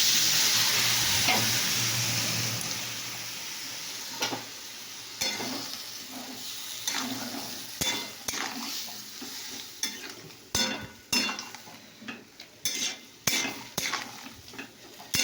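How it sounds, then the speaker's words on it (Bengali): Spices frying in a pan while being stirred: a strong sizzle that fades gradually, then repeated sharp scrapes and clinks of a metal spoon against the pan, growing more frequent toward the end. "মশলা দিয়ে এবার কষতে দিয়েছি"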